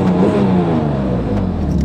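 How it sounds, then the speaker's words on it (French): A Porsche GT2 engine revs in snowy conditions, a loud, close, sustained mid-pitched roar with rising and falling tone and no talk over it. "Donc là vous entendez, ça fait le bruit Porsche"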